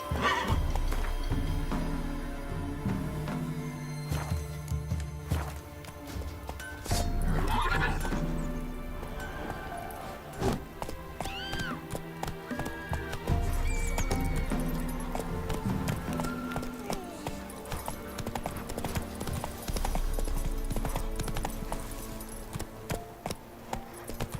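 Roach, a horse in the Witcher 3 video game, whinnies loudly and clip-clops along at a trot, with repeated neighs over steady hoofbeats and game music.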